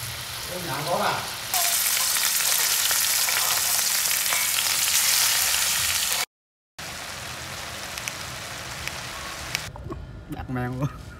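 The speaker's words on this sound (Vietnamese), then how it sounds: "Giờ là xào rong biển." Seaweed stir-fries in a pan during a fishing trip at sea, with loud, steady sizzling and crackling and the clatter of stirring, a brief gap midway and voices nearby.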